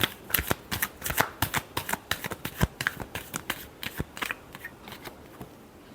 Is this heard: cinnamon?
no